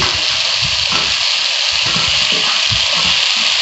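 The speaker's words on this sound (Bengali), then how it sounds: "এবার আমি আলুটা দিয়ে দিচ্ছি" Potatoes added to a hot frying pan for a spicy tangra fish curry set off a loud, steady hissing sizzle that runs without a break, with faint low stirring bumps underneath.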